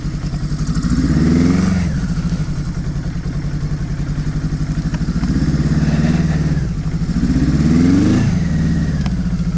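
Suzuki GS850 scrambler motorcycle ridden through snow, carburetor needing work: a loud, close, pulsing engine drone that rises and falls in two revving surges, with a steady throb between.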